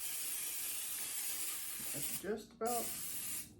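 Cooking spray from a nearly empty can hisses onto a pan in a long, steady spray with a brief pause before it resumes, while a voice speaks briefly.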